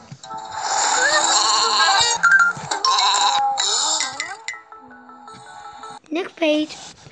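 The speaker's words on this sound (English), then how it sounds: "This sheep was like this, very cute." A sheep bleats in long, wavering calls up close, with a child and an adult talking around the cries.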